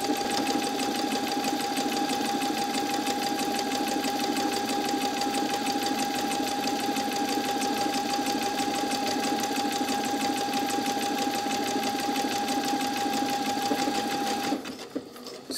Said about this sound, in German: jetzt habe ich automatisch mein Knopfloch schon fertig genäht